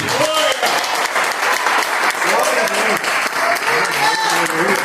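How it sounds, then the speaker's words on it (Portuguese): Church congregation applauds loudly and continuously during a Portuguese sermon, thick clapping overlaid with shouting voices and exclamations from worshippers. "Deixa eu ver se tem alguém com coragem para aplaudir Jesus por causa do sangue derramado."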